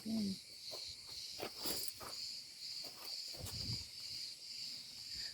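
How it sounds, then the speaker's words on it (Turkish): Cicadas drone continuously near the Knidos coast, a shrill, even buzzing chorus that stays steady at moderate distance with faint rustling underneath. "Ağustos böceklerinin memleketine gelmişiz."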